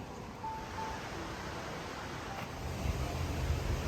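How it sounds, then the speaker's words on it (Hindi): River water flows under an old bridge at a shuttered amusement park in New Jersey, a steady broadband rush that swells slightly louder toward the end, continuous and without talk. "पानी बह रहा है"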